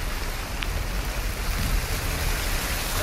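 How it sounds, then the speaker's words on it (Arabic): Rain falls steadily in Sanaa, Yemen, a continuous hiss of drops on surfaces with low rumbling underneath and one brief sharper tap, heard close and fairly loud with no talking. "يو مطر مطر مطر مطر مطر"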